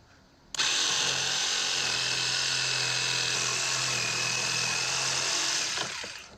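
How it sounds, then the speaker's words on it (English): A jigsaw cutting through timber after its blade is threaded through a drilled hole, running as one loud, steady whine with a low hum beneath for about five seconds, then stopping. "So on here, we have the jigsaw. I can thread the blade through now."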